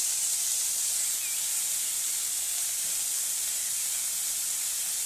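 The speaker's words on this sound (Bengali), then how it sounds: "এবার পরিমাণ মতো লবণ আর হলুদ দিয়ে এটাকে একটু ভেজে নেব।" Cauliflower frying in a pan with salt and turmeric, a constant soft hiss of oil that stays even and unbroken, with no voices.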